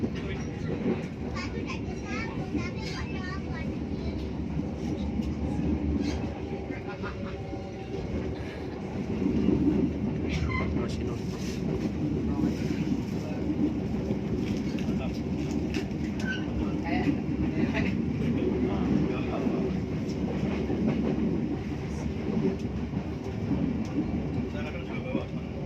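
Sri Tanjung passenger train on the Banyuwangi–Yogyakarta line runs with a steady rumble and rattle heard from inside the carriage, while passengers talk and children play throughout.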